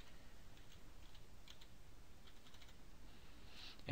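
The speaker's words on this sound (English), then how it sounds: "then we're going to type in the password." Quiet, quick keystrokes as a password is typed on a computer keyboard, a soft run of light clicks under faint room hiss with no talking.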